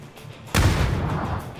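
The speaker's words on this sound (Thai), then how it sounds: "รถถังระเบิด" A tank blows up in a PUBG match, one sudden loud, booming blast that hits hard and rolls off into a long noisy rumble, with no talk over it.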